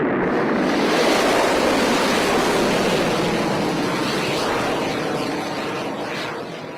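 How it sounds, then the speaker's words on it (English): Rocket launch roar after ignition: a loud, sustained broadband rumble that swells at once and holds steady for several seconds, fading slightly at the end. "10, 9, 8, 7, 6, 5, 4, 3, 2, 1. We have ignition."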